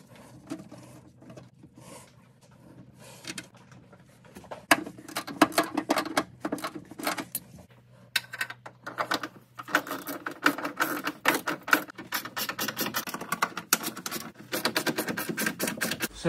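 Tools clattering and clicking as bolts and clamps are tightened on the rear bumper of a flood-damaged Porsche 968, with dense, irregular rapid ticks and rattles close by that grow busier and louder partway through, with no talk.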